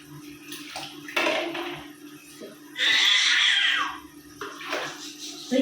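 Water splashed in a basin at home with a baby: bursts of splashing and pouring, one long loud wash in the middle, with brief vocal sounds between them.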